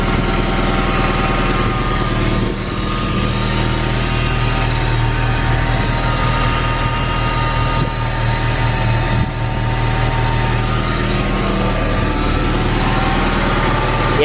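A K20-swapped car engine idles steadily, a loud continuous low rumble with a constant hum, no talking, held for the whole stretch while waiting on the radiator fan.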